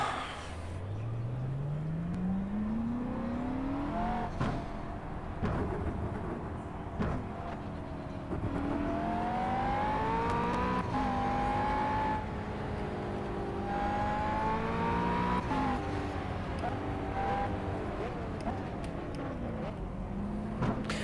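Race car engine in a racing video game at Laguna Seca, climbing through rising revs and repeated upshifts, whining steadily over a long run with brief dips between gears, no talk.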